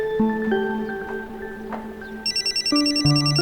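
A mobile phone ringtone plays a short electronic melody of sustained tones, then shifts to a quick pulsing beep pattern, fairly close and clear.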